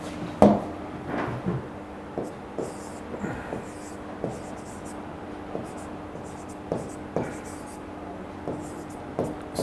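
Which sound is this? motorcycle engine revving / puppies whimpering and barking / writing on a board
writing on a board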